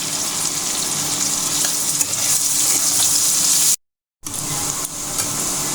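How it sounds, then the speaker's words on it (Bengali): Onions frying in a pan for chicken curry, a steady loud crackling sizzle close up, with a short gap of silence partway through, no talking. "পেঁয়াজগুলো লাল লাল করে ভেজে নেব।"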